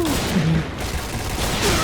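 Rapid, dense gunfire in the online shooter Point Blank on an Indonesian server, a continuous loud crackling fusillade with no clear gaps.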